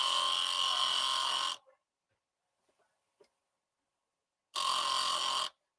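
A stone is ground on a flat top disc, the motor whining loud in two bursts, one long at the start and a shorter one near the end, with near-silence and a few faint clicks between.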